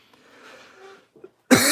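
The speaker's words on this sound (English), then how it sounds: "Sorry for the coughing" A muffled cough and a throat clearing, then a loud, harsh burst of noise at the end, close to the microphone.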